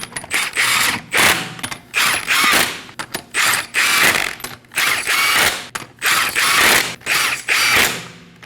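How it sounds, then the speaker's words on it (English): A ratchet snugs the wheel lug nuts on a 2017-2024 Nissan Armada, its rapid clicking coming in repeated loud bursts separated by short pauses, close up with no talking. "Now we can go ahead and install the lug nuts by hand. Snug everything up in a star pattern."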